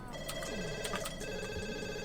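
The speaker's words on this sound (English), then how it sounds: "Is that the phone ringing?" In The Sims 2, a telephone rings with repeated electronic trill bursts, fairly close and steady over a sustained game music bed, with little talk over it.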